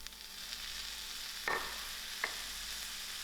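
Soya mince frying in a pan with a steady low sizzle, broken by two short scraping clatters as peas go in and are stirred, with no voices.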